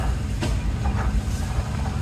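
A restored 1920 28-horse Minneapolis steam traction engine, built in Hopkins, Minnesota, rolls by in a Missouri tractor parade, giving a loud rumbling chug with hissing steam and a few sharper clanks close by.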